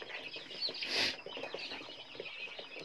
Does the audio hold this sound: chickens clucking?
yes